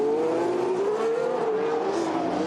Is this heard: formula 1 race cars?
yes